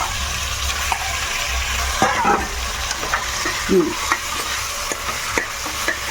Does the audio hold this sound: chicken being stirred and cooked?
yes